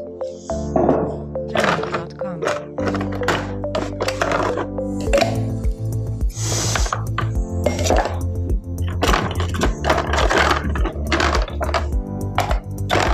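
White Lady cocktail shaken hard with ice in a cocktail shaker, giving a steady run of loud rattling, clacking ice hits in quick rhythm, with a low hum of background music underneath.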